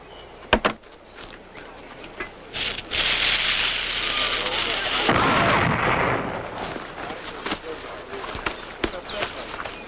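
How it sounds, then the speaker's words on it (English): Dynamite explosions go off, with a sharp blast, a long roaring rumble of debris, then scattered booms and cracks at a distance, fairly loud and not under speech. "dynamite is the biggest firecracker of them all"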